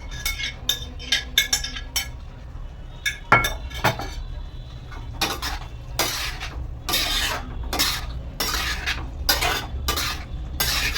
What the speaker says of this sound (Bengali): আমি এবার এই পনিরগুলো ফ্রাই করে রেখেছিলাম সেইগুলো দিয়ে দিলাম।